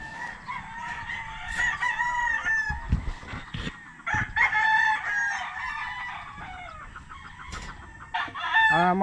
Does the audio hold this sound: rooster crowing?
yes